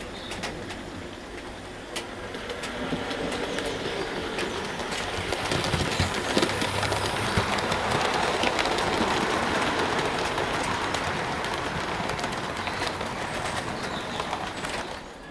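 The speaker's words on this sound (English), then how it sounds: "there's 6 coaches behind the engine, and you can see that she can handle those with ease with no problems at all" Hornby Princess Royal class model locomotive running steadily while hauling six coaches, a faint continuous rumble and rattle throughout, with no talking.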